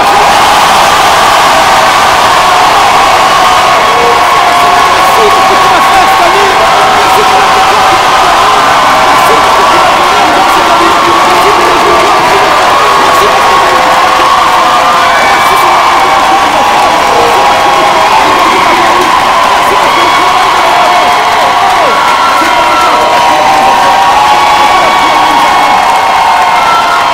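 A crowd at a French church youth gathering cheers and shouts loudly and without a break, whoops and high voices blending with scattered clapping in a sustained roar.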